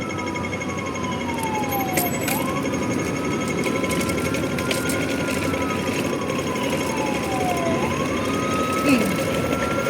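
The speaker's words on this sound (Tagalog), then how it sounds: "Yung mga ambulansya ay sunod-sunod na dumadaan." Ambulance sirens wailing one after another through a busy street on the way to a market, steady sweeping tones over constant traffic noise, fairly loud and close.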